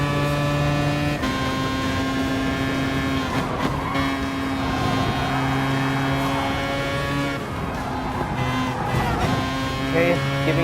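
Mazda 787B rotary race car engine in Gran Turismo Sport, a loud sustained high-pitched rotary whine that holds steady with shifting pitch and occasional tire squeal, while someone talks over it.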